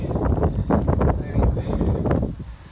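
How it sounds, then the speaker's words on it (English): Gusty wind buffets the microphone with low rumbling bursts, loud and close, on an Appalachian Trail hiking path, while a voice talks faintly underneath. "sorry, it's going to be a little windy."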